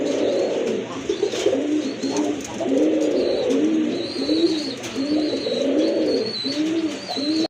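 Pigeons offered for sale coo in repeated soft, rolling phrases close by, several birds overlapping in a steady rhythm, with faint chirps higher up and no voices.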